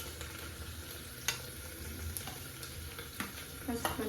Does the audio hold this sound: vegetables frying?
yes